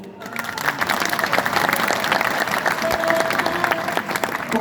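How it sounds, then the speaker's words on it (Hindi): Applause from an audience, a dense steady wash of many hands clapping that holds for several seconds with a faint murmur of voices beneath. "ताली से समझ में आ गया कि आप सब सहमत हैं।"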